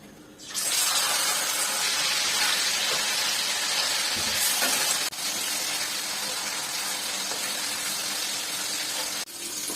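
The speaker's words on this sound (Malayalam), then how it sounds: "നമുക്ക് ചിക്കൻ വറുത്തെടുക്കണം. എണ്ണയിലോട്ടിട്ട് വറുത്തെടുക്കാം." Chicken pieces dropped into hot oil for an easy chicken curry: a sudden burst of loud, broad sizzling hiss that holds steady for several seconds, dipping briefly twice, with no talking.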